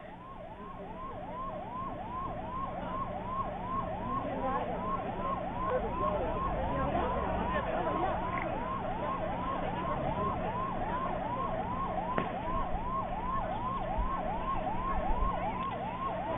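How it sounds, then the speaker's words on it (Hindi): Emergency sirens wail in a rapid, repeating cycle at a barricaded riot area, sounding from some distance over a low background rumble, with faint voices underneath. "सिर्फ सायरन सुनाई दे रहा है, क्योंकि पूरी तरीके से वहां पर बैरिकेडिंग कर दी गई है"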